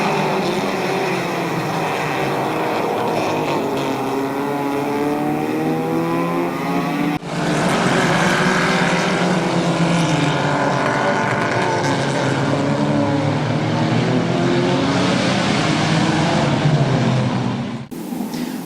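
Dirt track race cars at Barberton Raceway roar past in the final race of the night, engines revving and wavering in pitch as they sweep by, loud and continuous with a sharp cut partway through and no talk.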